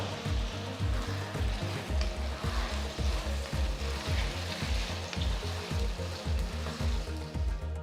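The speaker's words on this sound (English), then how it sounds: "Keeping the flame on high, saute the onions for 2 to 3 minutes." Chopped onions saute over a high flame in a pan, giving a loud, continuous sizzle and crackle with a steady frying hiss throughout.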